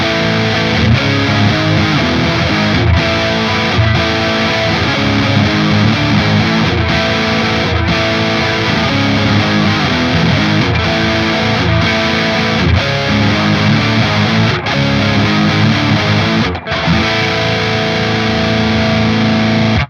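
Distorted electric guitar playing the ending riff of a song, closing on chord versions of a single-note riff; loud, continuous, with short rhythmic gaps between phrases and no talking.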